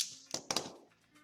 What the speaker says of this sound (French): Hop, petit coup de cutter. Voilà. On coupe ça.